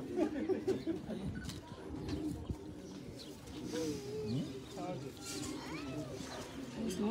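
Pet pigeons coo softly in low, throaty repeated calls, with background chatter and ambient outdoor noise.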